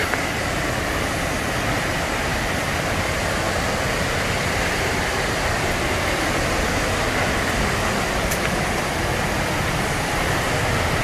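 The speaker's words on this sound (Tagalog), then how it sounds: "May ganito kagandang waterfalls." The 150-foot Alalum Falls in Sumilao, Bukidnon, gives a loud, constant, broadband roar of falling water with no breaks and no voices.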